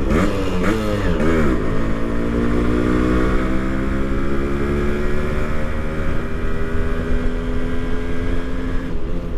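A Yamaha RX100 motorcycle with a modified cut exhaust baffle idles loud and close, with a few quick throttle blips at the start before settling into a steady, rough, throaty drone.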